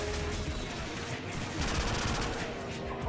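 Dense, continuous gunfire in Call of Duty 4: Modern Warfare, with rapid overlapping shots and crackling bursts filling the whole stretch at a constant, moderately loud level.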